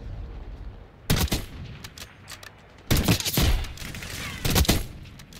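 Sniper gunfire in the Call of Duty Black Ops 6 video game rings out in three loud bursts of sharp shots. The shots are spaced about every second and a half, with faint background clatter between them and no talking.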